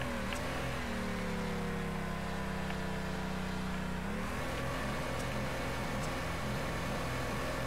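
A '69 Mustang with a 605-horsepower crate engine in the driving game Torque Drift: a loud, steady engine drone with rising and falling rev pitch, a dip and surge near the middle, continuous without talk.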